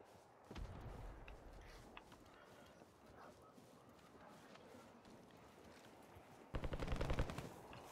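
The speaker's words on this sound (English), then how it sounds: "Gunshots right." Rapid bursts of automatic gunfire crackle at a distance, with a louder, closer volley near the end over a busy background.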